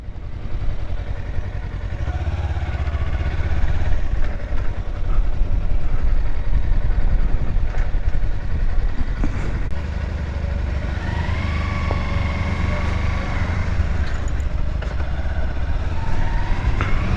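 Kawasaki Versys 300X motorcycles idle steadily and close by while being parked, a continuous low engine rumble with light mechanical clatter and no talking.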